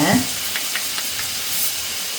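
Cluster beans with curry leaves sautéing in a pan, a steady soft sizzle with a few faint stirring scrapes, close and fairly quiet, no talking.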